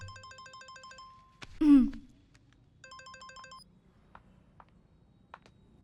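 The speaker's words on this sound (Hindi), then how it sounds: "फोन।" A phone rings in a synthetic, beeping electronic pattern, sounding in two bursts separated by a loud rising swoosh, with a few faint clicks toward the end.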